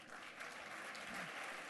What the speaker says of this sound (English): Another round of applause, please, for Randa